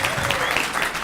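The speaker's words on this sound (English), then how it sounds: "Let's give him a big round of applause." Audience applause at a Charlotte Rotary club meeting, a dense, steady burst of many hands clapping in a room, moderately loud and brief.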